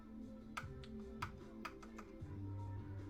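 A computer keyboard plugged into a PS5 console is typed on with a few separate sharp key clicks at irregular intervals, faint against a low steady hum.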